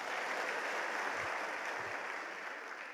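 A seminar audience at a business talk claps together in a thick, continuous wash of applause that holds steady for a few seconds before easing off slightly.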